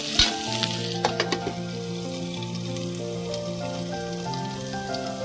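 Sharp spluttering pops as tempering for coconut chutney hits hot oil, followed by a steady crackling sizzle that continues evenly, up close, with no speech.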